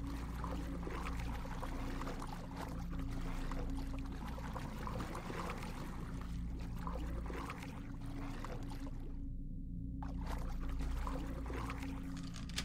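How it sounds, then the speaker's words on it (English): Water rushing through pipes in the game DDO, a continuous, dense gushing and pouring that holds steady at moderate level with no talk. "The valve triggers a rush of water through the pipes"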